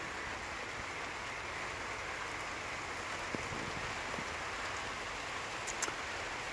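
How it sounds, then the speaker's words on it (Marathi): Steady, soft rainfall hisses evenly in the background, with a few faint drips and distant knocks; no voices. "पाऊस चालू झालेला आहे"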